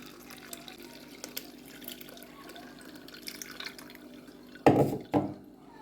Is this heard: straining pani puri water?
yes